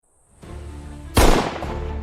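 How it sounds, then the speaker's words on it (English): A single loud, close gunshot from a 9mm pistol bursts out over a steady background rumble, with a short ringing tail afterward. "Bang. The recoil vibrates through my shoulders, rattling my teeth."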